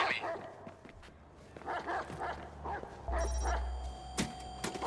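A dog in the video game Watch Dogs 2 barks repeatedly in short yapping bursts, fairly close, with a faint voice and game sounds underneath.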